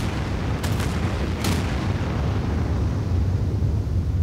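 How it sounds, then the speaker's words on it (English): A nuclear missile launch and blast in Anno 2205, heard as a deep, continuous roaring rumble with a couple of sharp cracks near the start, loud and sustained to the end. "Nuclear missile. Fire."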